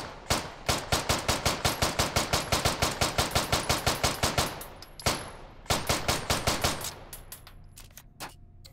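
Rapid semi-automatic gunfire in the VR game Hot Dogs, Horseshoes & Hand Grenades, a long string of loud, evenly spaced shots, a brief pause, then another run of shots that thins out toward the end.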